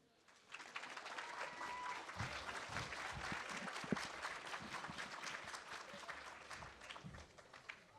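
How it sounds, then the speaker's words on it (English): Youth conference audience applauding a councilmember, faint at first, then a full round of crowd clapping that swells, holds steady and begins to taper off near the end. "Round of applause for Councilmember Janice Laan, please."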